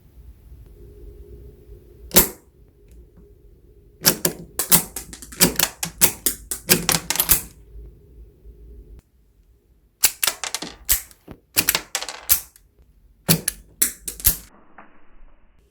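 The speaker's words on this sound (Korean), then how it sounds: "세 발의 모형탄을 배출하는 영상을 막 이어붙이고요" Full-metal half-scale MAC 10 model gun being cycled by hand, ejecting dummy rounds: sharp metallic clicks and clacks in quick rattling bursts separated by silent pauses, close and crisp.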